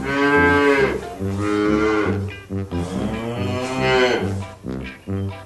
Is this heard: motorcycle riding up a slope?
no